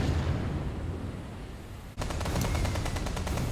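Naval gunfire and anti-aircraft fire in the warship game Ultimate Admiral: Dreadnoughts, a dense roar of battle noise followed by a rapid string of sharp repeated bangs, loud and without speech.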